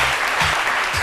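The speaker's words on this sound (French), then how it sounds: "Merci à ce public qui peut s'applaudir." Audience at an RTI televised gala event applauding: dense, steady applause filling the whole moment with no speech over it.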